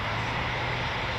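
Eurofighter Typhoon FGR4 jet engine roaring at an RAF station, a dense, steady broadband rumble that stays loud and unbroken throughout.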